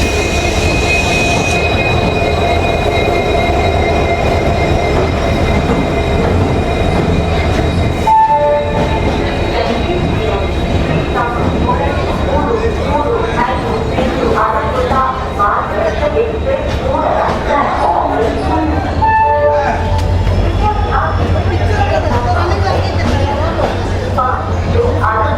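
A WDG4 diesel locomotive hauls the Tirumala Express rake into a crowded station, with a loud rumbling engine, clattering wheels, squealing flanges and horn blasts continuing throughout while someone talks over the noise.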